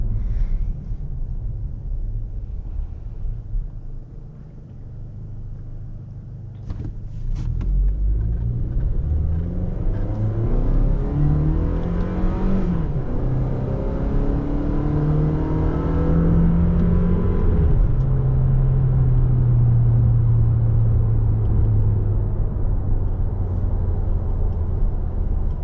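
A 2019 Toyota Tacoma SR5 with a 2.7-liter four-cylinder engine idles with a low rumble, then revs up hard, its pitch climbing and holding high as the engine drones loudly, with no talking.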